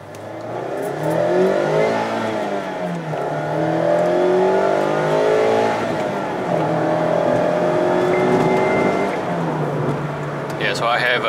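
Mazda MX-5 ND RF GT with a 160-horsepower engine revving high in first gear, heard from inside the cabin as rising and falling engine tones across several pulls, with a person talking over the sound.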